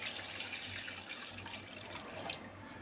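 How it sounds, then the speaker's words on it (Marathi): Water poured from a glass into a cooking pot in a home kitchen, a steady close splashing, running pour lasting about three seconds with no talk. "इथे एक पातेलं घेतलं आहे, त्यामध्ये आता 1 ग्लास पाणी टाकायचं आहे"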